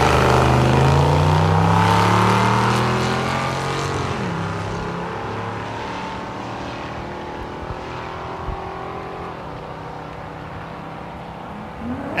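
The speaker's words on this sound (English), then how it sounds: "Next pair finishing their burnouts, the Corvette in the left lane" Drag racing cars at Thunder Valley in Noble, Oklahoma, including a Corvette in the left lane, finish their burnouts with loud engine roar and revving that gradually fades into a steady broad rumble.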